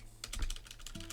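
Close, steady tapping on a computer keyboard, a quick run of light plastic key clicks with a faint background hum.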